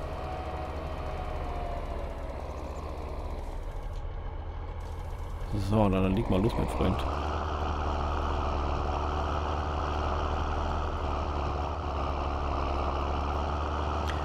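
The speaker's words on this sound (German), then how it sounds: "Der Trecker ist mega laut." A tractor engine in Farming Simulator 22 drones loud and steady throughout, with a brief rattling surge midway, while someone talks over it.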